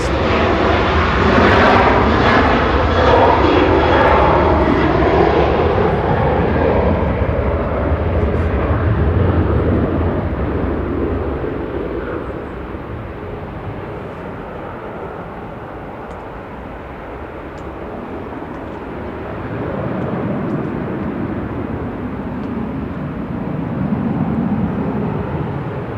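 An Air France A220 airliner taxis at Manchester Airport, its engine whine loud and close at first, then fading and settling into a steady, distant roar before swelling slightly again.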